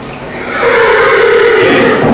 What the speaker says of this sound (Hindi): बहुत से घोड़े इसी ओर दौड़ते चले आ रहे हैं महाराज